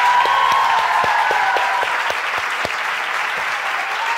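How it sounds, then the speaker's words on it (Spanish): An audience at a live Spanish-language comedy show applauds steadily, a dense wash of clapping with a few sharp individual claps standing out, fairly close and sustained throughout without talk. "¡Un aplauso!"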